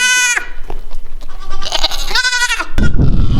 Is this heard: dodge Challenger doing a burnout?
no